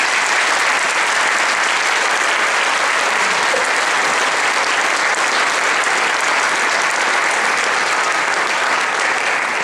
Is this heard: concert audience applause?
yes